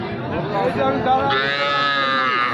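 A cow lows in a long, loud, close moo that rises in pitch toward the end, over low crowd chatter at a calf and cattle market in Joypurhat.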